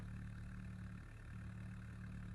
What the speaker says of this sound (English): engine sounds very aggressive.